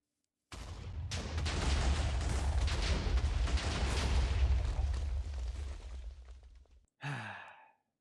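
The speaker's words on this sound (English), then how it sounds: "I decided to use my gunpowder for something useful. Not just fireworks, but actual explosives." A Minecraft gunpowder explosive blast erupts as a long, loud roaring rumble lasting several seconds, fading out, followed by a short second burst right after.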